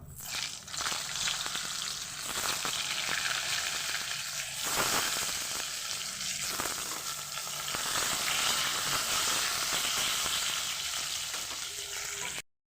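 Pointed gourd pieces frying in oil, a steady bright sizzle with occasional stirring scrapes and clatters, close and moderately quiet, continuing until a sudden cutoff at the end.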